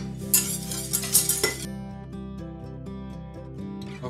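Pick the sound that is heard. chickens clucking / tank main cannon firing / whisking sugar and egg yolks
whisking sugar and egg yolks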